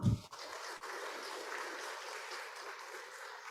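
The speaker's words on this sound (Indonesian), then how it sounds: "Tepuk tangan untuk beliau." Soft, distant applause from a talk audience, a steady patter of clapping after a short thump at the start.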